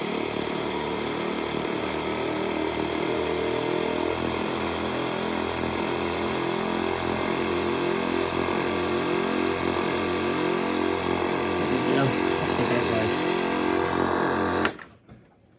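A test pump runs during calibration with a steady, loud, rhythmic mechanical throb and hum throughout, ending abruptly as it shuts off.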